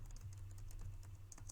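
Faint, quiet typing on a computer keyboard as GLSL shader code is entered, a steady patter of light key clicks with no voices.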